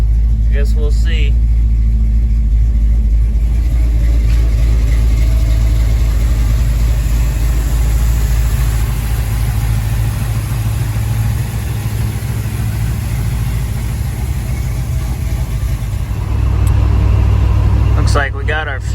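A slammed Chevrolet C10 pickup idles while warming up after a fuel delivery repair, a deep, steady engine rumble close by with voices faintly underneath.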